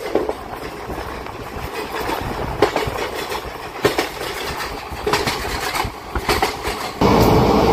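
Clickety-clack of a special passenger train running from Rajahmundry to Araku, heard from on board. The loud rumble of the wagons carries on without a break and is marked by repeated sharp wheel clatters and rattles.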